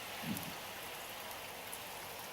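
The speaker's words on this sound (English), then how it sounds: "It's been raining for days." Steady rain falls during days of wet weather in Switzerland, a soft continuous hiss of drops on surfaces with no voices and no break in the wash.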